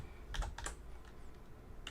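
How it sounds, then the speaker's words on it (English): Quick bursts of computer keyboard typing during a Kerbal Space Program live stream, several close, crisp keystrokes clustered early and a final tap near the end, with no talking. "I'm just typing that in."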